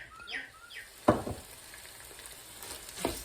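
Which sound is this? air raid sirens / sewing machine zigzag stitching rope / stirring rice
stirring rice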